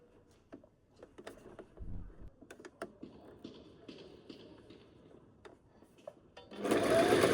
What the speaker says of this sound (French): on va passer au montage en direct sur la machine